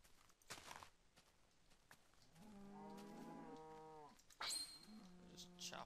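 A Minecraft cow moos twice in a drawn-out, wavering voice, the second call shorter, with faint game footsteps and rustling around it.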